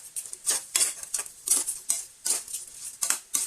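Butter garlic shrimp stirred in a pan with a utensil, giving repeated scraping, clinking strokes at a steady rhythm, close and fairly quiet, with a faint sizzle underneath and no talking.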